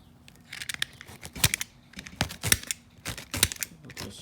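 Cloth seat cover being torn off a Honda Odyssey seat, a series of close, sharp ripping and crinkling bursts at irregular intervals with no talking.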